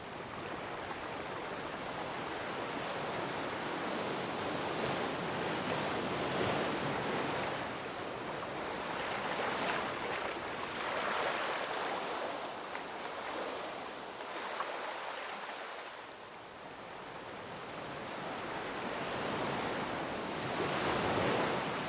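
Mediterranean sea waves crash and wash continuously onto a busy Barcelona beach in summer, a broad, steady roar of surf rising and falling in gentle surges with no distinct voices standing out.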